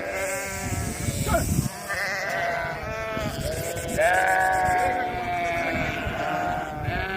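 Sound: mountain goats bleating at a farm sale

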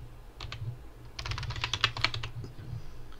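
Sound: typing on a computer keyboard

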